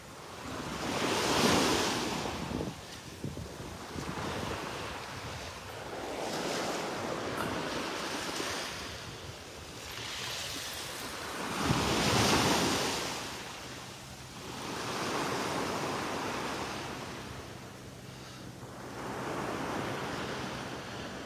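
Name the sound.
ocean waves on the beach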